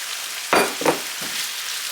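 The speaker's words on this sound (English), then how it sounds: "And we're just gonna let our veggies cook for about 2 to 3 minutes" Vegetables seasoned with soy sauce for spring roll filling sizzle in a pan, a soft continuous fry broken by a few brief louder stirring scrapes.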